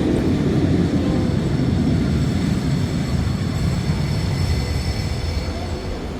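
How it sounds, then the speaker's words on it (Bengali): A metro train pulls into a station in Portugal with a loud, steady rumble and a rushing roar, fading slightly as it slows, with faint high rail whine above and no talk. "এখনই চলে আসছে আমাদের সেই মেট্রো"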